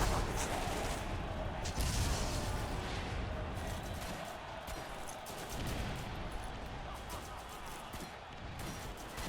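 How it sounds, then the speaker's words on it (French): Continuous booming explosions and gunfire-like blasts from the video game Borderlands fill the scene, a dense loud rumble with repeated impacts throughout. "Toi qui fais des explosions comme ça?"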